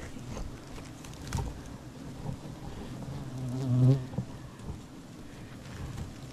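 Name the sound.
giant honey bees buzzing around a wild nest harvest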